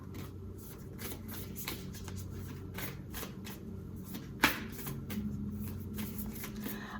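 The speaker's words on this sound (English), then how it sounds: "Dropping cards, man." Tarot cards are shuffled by hand in a steady run of soft, close riffling flicks, with one sharper slap where cards drop partway through; no voice is heard.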